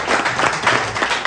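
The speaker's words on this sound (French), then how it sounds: "Je crois qu'il faudrait qu'on applaudisse encore pour" Dense, loud crowd applause filling a convention hall at the 2024 Mombo universal convention, a continuous wash of many hands clapping with no single clap standing out.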